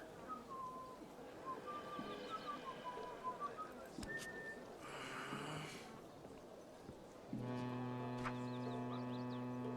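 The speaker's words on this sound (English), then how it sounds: "Whistle if you need another pointer. I'm whistling!" A player character in the game Book of Travels whistles a short, descending melodic phrase, moderately loud against a soft ambient background, followed by a sustained tonal chord.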